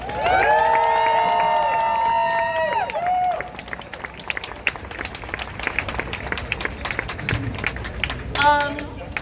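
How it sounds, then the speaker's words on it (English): Rally crowd in New York City applauding and cheering during a street protest, with a sustained burst of clapping over loud sustained tones at first, then scattered claps and shouts continuing to the end. "give a round of applause for that, please"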